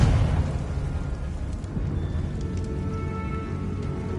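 A Confringo blasting spell in Hogwarts Legacy goes off with a sudden explosive burst, then a rumbling, crackling debris wash that lingers for several seconds.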